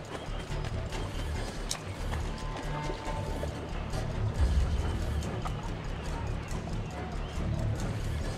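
Horse hooves clop steadily in Assassin's Creed Brotherhood, a continuous galloping patter under busy ambient game sound.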